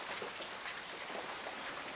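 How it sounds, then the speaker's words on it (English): Heavy rain pouring in early March, a dense, steady hiss of drops that is loud and continuous at close range, with no talking. "it's pouring with rain again"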